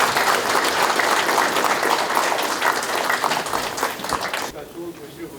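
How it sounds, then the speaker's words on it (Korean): Sustained applause from the audience at a press conference announcing a provincial governor candidacy, dense steady clapping that tapers off near the end as a voice begins talking. "뜨거운 박수 부탁드리겠습니다"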